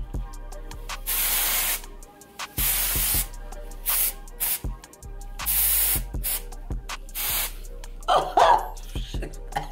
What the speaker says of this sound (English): And you just spray all up in there.